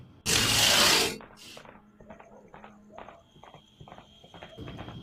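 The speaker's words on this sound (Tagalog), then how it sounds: "Maririnig ang mabiblis na yapak ng kabayong tumatakbo mismo sa harapan ng bahay niya." Horse hooves clip-clopping in a quick rhythmic run, several sharp hoofbeats close by, following a loud burst of noise at the start, with faint voices in the background.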